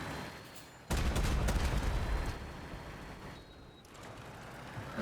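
Cannon fire in the vehicle combat game Crossout, with a sudden heavy blast followed by a dense burst of rapid shots that fade into rumbling mechanical battle noise, loud and without speech.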